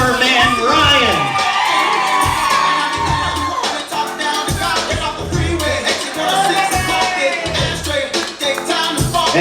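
Wedding guests cheer, whoop and shout loudly and continuously as a flower man is introduced at the reception, a dense crowd roar with an announcer's voice over it.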